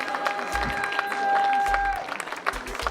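Applause from the audience at an Antillean-themed evening party, a patter of clapping mixed with crowd murmur and a voice, with low thumps and sustained tones running underneath.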